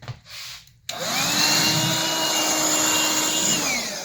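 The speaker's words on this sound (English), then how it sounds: "Oh, this needs to be vacuumed." A Black and Decker Dustbuster handheld vacuum switches on after a brief quiet moment and runs with a loud, steady whine for the rest of the clip, close up and without talk.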